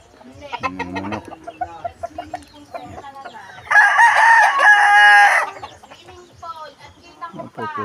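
Hens cluck and chatter nearby, then a rooster lets out a loud, drawn-out crow in the middle before the clucking resumes.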